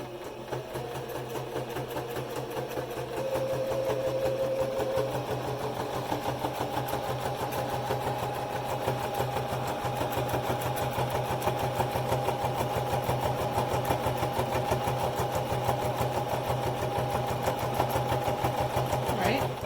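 A Singer electric sewing machine stitches a small decorative tulip pattern, its motor running in a fast, steady mechanical chatter that holds nearly constant for about twenty seconds, close and moderately loud.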